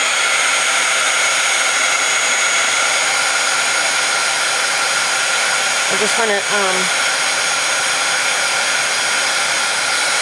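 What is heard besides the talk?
heat tool blowing to dry distress paint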